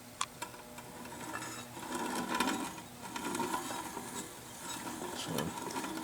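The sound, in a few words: Yates American B244 Reeves drive motor running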